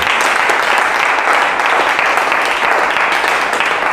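A church congregation claps and applauds for the Lord during a service led by Prophet Eliezer Amos. It is a loud, steady wash of many hands that never lets up.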